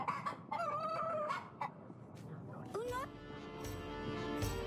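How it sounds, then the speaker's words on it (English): A black rooster crows in the Yes, Your Grace game, a rising cock-a-doodle-doo heard over murmuring background sound, with clucks and a voice around it. "A rooster!"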